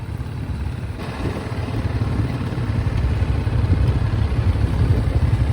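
A motorcycle engine runs at a steady drone during a group bike trip from Kolkata to Purulia, loud and close, with rumbling clatter and road noise and no talking.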